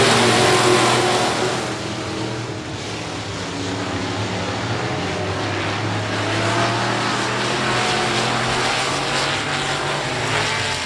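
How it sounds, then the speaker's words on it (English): A pack of race cars roars off at the green flag at I-37 Speedway, a loud, sustained engine drone that rises and holds steady for several seconds with no speech over it. "Green flag, green light. Let's go racing."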